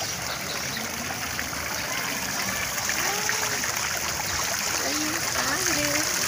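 Water splashes and trickles steadily in the fountain of a town kiosk in Acambay, State of Mexico, a constant outdoor rush with people talking faintly over it.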